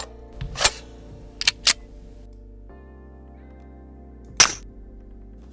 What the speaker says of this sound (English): I used some weapon sound effects and modified them in Audacity to create a fairly satisfying shooting sound for the pistol